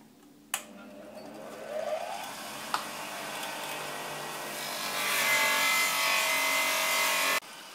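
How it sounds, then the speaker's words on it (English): Rust and patina are stripped off an old Hults Bruk axe head with a powered tool, a continuous close abrasive whir and grind that starts with a sharp contact, grows harsher and louder toward the end, then stops abruptly. "You can see how easily it strips off the rust and the patina that's been sitting on there."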